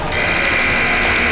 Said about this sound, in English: And the buzzer sounds, and that is the end of the third quarter.